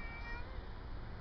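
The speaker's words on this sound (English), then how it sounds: "And that's the cat." A stray cat perched up high gives a short, faint meow over a steady background hiss, with no talking.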